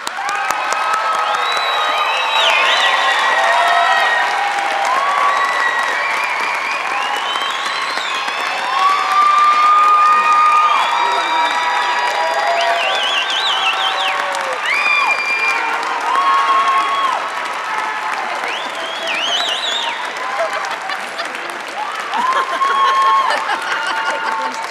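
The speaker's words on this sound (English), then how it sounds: "Let's all give them a round of applause" A large audience at a nursing school pinning ceremony breaks into sustained applause with cheering, whoops and shouting voices, loud and lively, rising and falling over many seconds.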